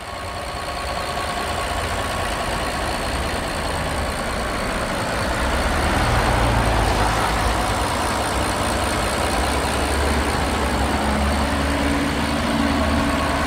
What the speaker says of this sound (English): litre twin turbocharged V12 engine, puts out around 560 brake horsepower